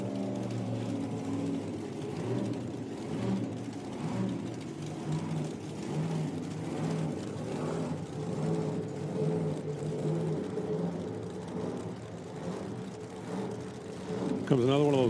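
A nitro drag race car rolls into the water box at an IHRA Outlaw Nitro Series event, its engine a steady low rumble beneath continuous commentary, with a brief rising rev near the end.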